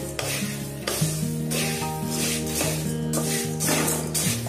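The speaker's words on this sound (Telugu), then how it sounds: "మరి హై ఫ్లేమ్ కాకుండా మరీ లో ఫ్లేమ్ మీడియం ఫ్లేమ్లో పెట్టుకొని మంచిగా వేయించుకోవాలి." Coriander seeds roasting in a pan over a medium flame, with a steady dry sizzle and scraping stirs running throughout under background music.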